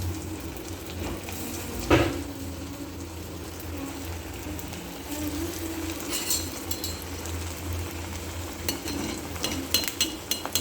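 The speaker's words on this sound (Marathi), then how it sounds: "तर आता हे आपण वडे तेलामध्ये सोडतो" Sabudana vadas deep-frying in hot oil, a steady close sizzle and crackle throughout with a sharp burst near the start and occasional clinks of a utensil toward the end.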